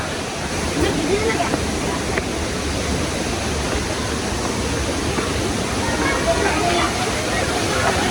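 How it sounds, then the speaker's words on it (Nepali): Continuous loud rushing roar of a waterfall, broad and steady throughout with no breaks. "झर्ना आयो"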